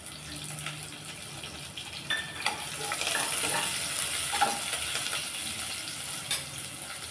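Crushed garlic and curry leaves sauté in a pan with a continuous close sizzle, stirred now and then with scraping knocks; no one speaks.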